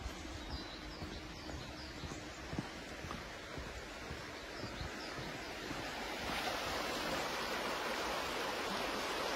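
River water rushes past a riverside three-bed bungalow near Inverness, a continuous broadband flow with some wind buffeting the microphone, quietish at first and then swelling louder for the last few seconds.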